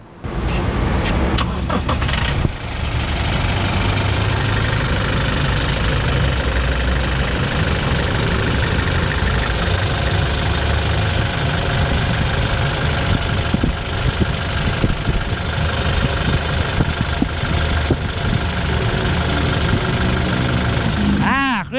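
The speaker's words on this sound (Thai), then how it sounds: "ฟังเสียงเครื่องยนต์กัน" A 2017 Toyota Innova Crysta 2.8-liter diesel engine idles loudly and steadily with a rough, clattering rumble that continues without pause from start to finish.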